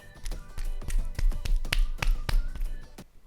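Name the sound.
wet squelch of cheese and corn flour slime food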